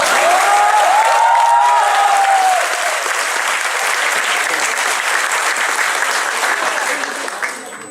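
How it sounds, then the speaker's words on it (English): First-year MBBS medical students break into loud, sustained hall applause, dense clapping that holds steady and slowly thins out toward the end, with a brief voice heard over it at the start. "If you clap so frequently,"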